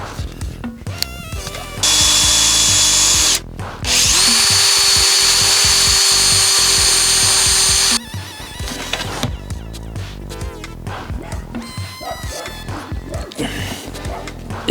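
Power drill boring a hole into a birch trunk, two long loud whirring bursts of drilling separated by a short pause, followed by rustling and handling sounds close by.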